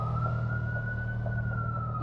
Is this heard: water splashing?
no